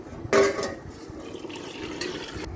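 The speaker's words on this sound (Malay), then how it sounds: "Masukkan air kisar kepala ikan tadi ya." Blended fish head water is poured into a cooking pot, beginning with a bright splash and clink, then settling into a soft, steady liquid trickle. Faint, close and without speech.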